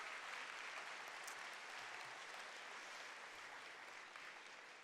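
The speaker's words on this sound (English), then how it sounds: "A warm round of applause for Suzanne." An audience at the Liberal Party of Canada convention applauds Suzanne, the steady clapping holding at an even level for about five seconds with no voices.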